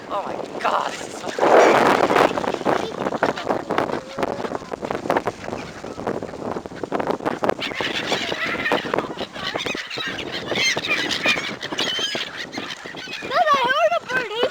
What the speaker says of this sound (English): Dad, I heard a bird.